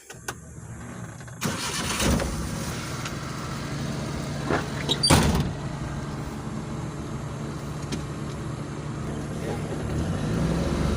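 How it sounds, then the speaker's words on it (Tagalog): A vehicle laying fiber optic cable starts up and rolls forward, its engine catching with a sharp burst and then a steady idle-to-drive hum close by, with a few bumps and clunks. "Abanti lang natin yung sasakyan."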